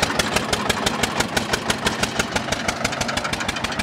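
A single-cylinder tractor engine runs steadily while driving a 7 ft double-shaft rotavator, giving a fast, even chugging beat with rapid regular pulses. It sounds close and fairly loud, with no talk.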